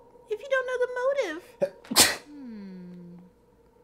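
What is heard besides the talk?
sneeze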